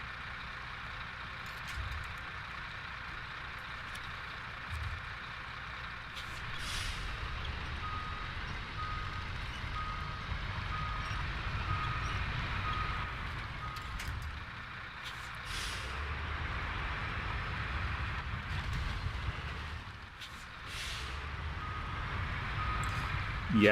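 A quarry truck in the video game SnowRunner reverses with steady repeating beeps over a low engine rumble and occasional air-brake hisses, the beeps sitting mid-level throughout.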